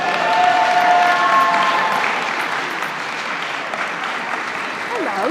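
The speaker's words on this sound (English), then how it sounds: "Can we give a big round of applause, please?" An audience at a Black History Month event breaks into warm applause that swells loudly at first and then tapers to a lighter, sustained patter, with a voice briefly over it.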